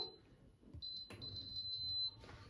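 An electric stove gives a steady high-pitched electronic beep lasting about a second as it switches on, then a quieter tone, over low kitchen background noise.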